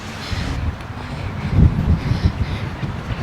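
Steady wind rushing and buffeting against the microphone, a low continuous roar with gusts swelling midway.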